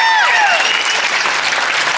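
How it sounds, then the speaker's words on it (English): A rally crowd at a national event against violence gives a big round of applause for volunteers, dense steady clapping alone right after a voice trails off. "So if we could just do a big round of applause for them"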